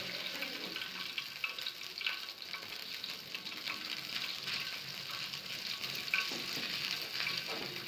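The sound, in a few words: coral fish frying in oil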